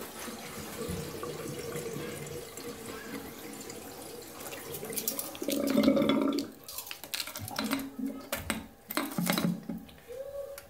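Water swirls and gurgles down a sink drain after the plug is pulled, with a steady running wash, splashy bursts and drips close by, with no talking.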